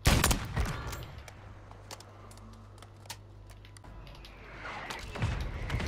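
Enemy gunfire in a battle royale video game, with loud close bursts at the start and near the end and scattered sharp single shots in between over a low steady hum.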